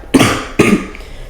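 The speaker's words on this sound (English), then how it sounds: "Sorry, I have a bit of a cough." Two close, loud coughs from an adult, spaced about half a second apart.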